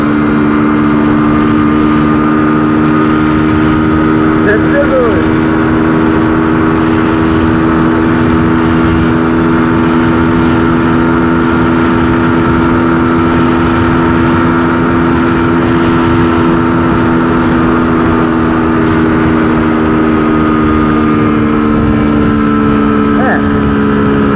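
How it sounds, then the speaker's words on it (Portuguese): Honda Fan 125 motorcycle running at top speed downhill, a loud, steady engine drone with a sustained even pitch and rushing wind noise, continuous throughout. "Mas só vocês verem que a motinha não é tão fraca na descida."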